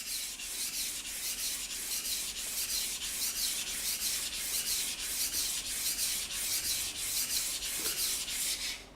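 A kitchen knife is sharpened on a Japanese whetstone, a steady series of bright, gritty scraping strokes repeating at an even rhythm, close and fairly loud, with no voices.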